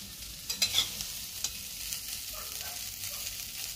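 Bitter gourd (karela) sabzi frying and being stirred in a pan, with a soft steady sizzle and a few louder scraping stirs near the start, no talking.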